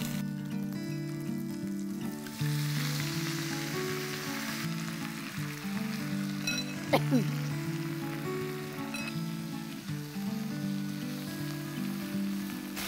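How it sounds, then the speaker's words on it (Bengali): Pumpkin greens sizzle steadily in a hot pan with green chili, grated ginger and asafoetida, a continuous frying hiss with a brief clink of stirring partway through. "এবার অল্প ভাজা ভাজা করব।"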